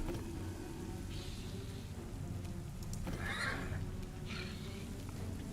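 A horse whinnies a couple of times at moderate distance in the video game Pathfinder, over a steady rumbling background, with no voices.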